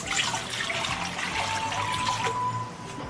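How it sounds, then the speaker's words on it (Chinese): Tap water pours into a wok on the stove for a home-style Chongqing crucian carp dish, a steady splashing, gurgling stream that runs close and continuous for the whole stretch with no voices. "锅中加适量清水"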